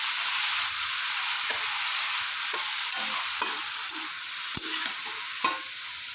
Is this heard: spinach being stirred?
yes